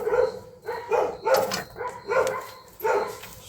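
Several neighborhood dogs bark in repeated bursts roughly every half second to second, moderately loud and somewhat distant, with no talking over them.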